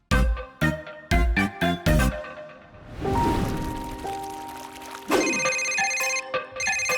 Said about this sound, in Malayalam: ആ ഫോൺ വേഗം എടുക്ക്.